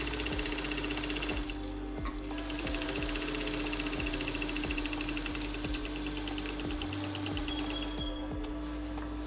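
A sewing machine running steadily while top stitching a trouser pocket, a close, continuous rapid mechanical whirr with a rhythmic needle tick and a brief slowdown near the end.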